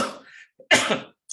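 A person recovering from Covid-19 coughs a few times, harsh and close, with a short gap and a small final catch of breath.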